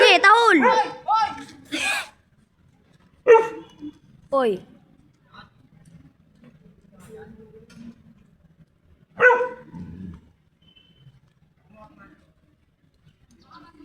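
A dog barks several times on command in short bursts, close and loud, with a person speaking briefly around the barks and quieter sounds between.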